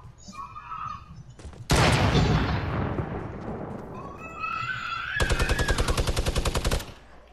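Gunfire in a shooting video game: a sudden loud blast that decays over a few seconds, then a fast, steady automatic volley, with faint talk in the background.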